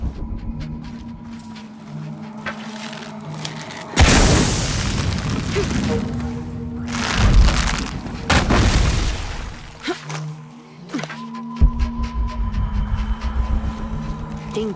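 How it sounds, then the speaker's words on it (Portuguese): Explosions go off in the video game Shadow of the Tomb Raider as a few loud booming bursts with rumbling tails, set against a low game music drone. "Tenho que gerar uma explosão."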